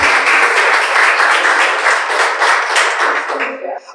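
A church congregation applauding during an evening service, loud and dense clapping mixed with cheering voices, sustained before tapering off at the end.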